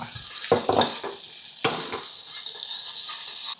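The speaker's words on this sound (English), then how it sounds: "Now add the onion." Onion dropped into a hot pan with cumin and chicken, a bright sizzle of frying under a few spatula scrapes and clacks, the hiss holding steady throughout without any talk.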